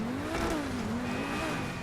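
Car drifting in GTA 5 on a snowy road, a sustained tire squeal sliding in pitch over a droning engine, close and continuous.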